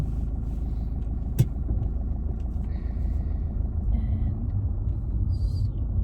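Low, steady rumble of a car engine idling and pulling away slowly during a driving lesson, continuous throughout, with a brief sharp click partway through and faint higher noises above the hum.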